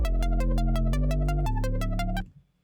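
Synthesizer bass built from two wavetables, one a sine and the second with pulse modulation, plays a loud, buzzy, rhythmic repeated pattern of short notes with shifting pitch, then cuts off abruptly, with no voices.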